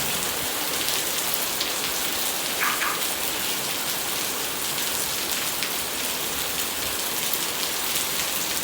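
Steady, dense rainfall in Chanthaburi, Thailand, pattering on surfaces and a newly fitted rain gutter, a constant hiss that continues without pause, with a brief higher tick partway through.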